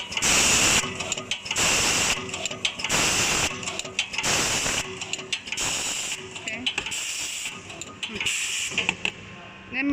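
A machine for cleaning plastic with broken teeth runs in repeated cycles, loud mechanical clattering and hissing bursts alternating with brief quieter gaps, close and busy throughout.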